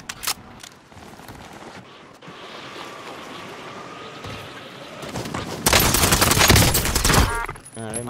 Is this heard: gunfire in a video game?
yes